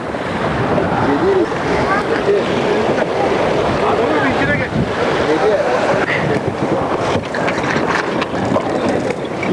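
A sailing yacht beats close-hauled through waves on the Bosphorus during a race, with constant loud wind roar and rushing water against the hull, and voices talking over it.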